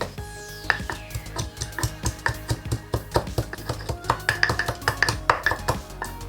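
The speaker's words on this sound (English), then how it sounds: "we're gonna mince the garlic" Garlic cloves being minced with a knife on a board, rapid sharp chops in an uneven but steady rhythm close up, with no voices over them.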